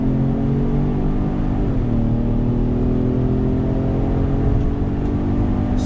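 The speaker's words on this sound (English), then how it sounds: "I want to give you an acceleration test on throttle" A 2020 Ford Explorer Platinum's twin-turbo EcoBoost engine with 10-speed transmission hums steadily and builds as it accelerates, a continuous close drone with a slight rise partway through.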